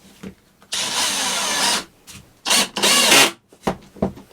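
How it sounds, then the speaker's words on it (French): A power drill driving a large screw while fitting a desk into a caravan, heard as several loud whirring bursts of varying length with short pauses and small knocks in between. "Maintenant, je vais visser là."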